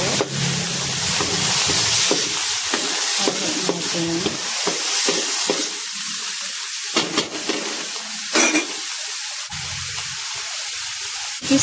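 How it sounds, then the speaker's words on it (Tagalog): Mixed vegetables and cabbage are stir-fried in a hot pan with a steady hiss of sizzling, broken by intermittent scraping and tossing sounds from stirring, and no talking. "Halo-halo para hindi masunog natin guys yung cabbage na ginawa ko."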